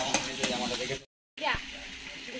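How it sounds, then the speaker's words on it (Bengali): Potatoes frying in leftover fish oil on a wood-fired clay stove, a broadband sizzle that runs steadily, breaks off for a moment, then resumes with stirring clatter. "মাছ ভেজেছি সেই তেলেই আলুটা ভাজলাম"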